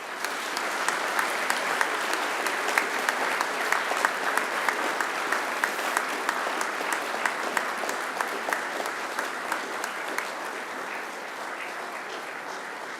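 A large graduation ceremony audience of families and friends applauds steadily and loudly throughout, a dense, sustained wash of many hands clapping with no break.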